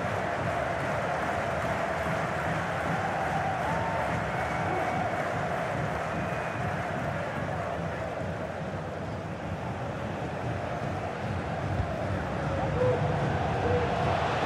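Large football stadium crowd roaring and cheering steadily throughout an Indian Super League match between Mohun Bagan and Jamshedpur FC, a dense continuous wash of noise with commentary over it.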